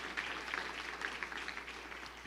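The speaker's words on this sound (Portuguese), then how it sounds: "você vai aplaudir forte o nome de Jesus" A church congregation at an Igreja do Evangelho Quadrangular service in Piracicaba applauds, a dense, steady wash of many hands clapping at once, fairly distant and soft, with no clear talking over it.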